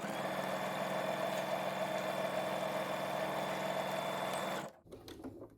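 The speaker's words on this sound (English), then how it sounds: "just stitch all the way along the edge" A sewing machine stitches fabric along the edge of a rectangle in a steady, even, buzzing run at close range, then stops abruptly, followed by faint handling noises.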